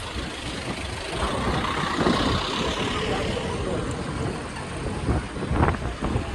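Road traffic rumbles past steadily, with heavy vehicles sweeping by in broad, continuous noise that swells a little toward the end.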